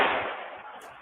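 A recording of gunshots plays back as one burst with a hissy, decaying tail over about a second, thin and fairly loud.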